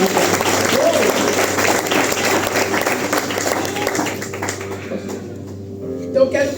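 Church congregation bursts into loud, dense applause during a worship service, with voices mixed in, and the clapping thins and fades toward the end.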